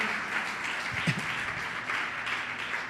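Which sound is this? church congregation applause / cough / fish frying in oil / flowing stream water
church congregation applause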